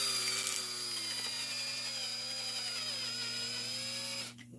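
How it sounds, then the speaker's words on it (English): A power drill whirs steadily at high pitch for several seconds, a drill bit widening a hole in a scale model exhaust part, holding a constant whine before winding down near the end. "We're just going to take this drill bit and we're going to wallow it out a little bit."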